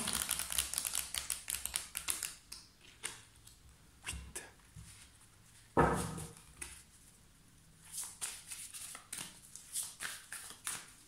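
A deck of tarot cards being cut and handled, giving scattered close papery taps and flicks in irregular bursts with a brief louder rustle midway, no talk.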